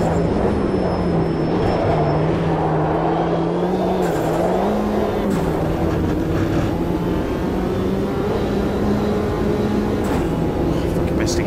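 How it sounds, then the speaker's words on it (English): A race car engine drones steadily in a VR racing game at Oulton Park, loud and continuous, its pitch dipping and climbing briefly as the revs shift, with crowd-like game noise underneath. "Missed a gear change there."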